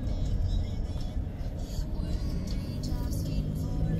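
A camper rolls through slow, heavy traffic on Tamiami Trail, its engine and road rumble a steady, loud low drone that fills the cabin with no distinct passing events.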